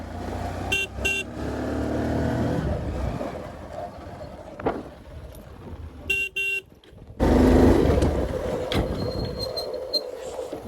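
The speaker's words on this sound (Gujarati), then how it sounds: "બાઇક લઈને જઈ રહ્યા" Motorcycle engine rumble runs under the ride to a farm field, with several short horn toots from nearby traffic, brief dips and then a louder rushing stretch as the bike moves along outdoors.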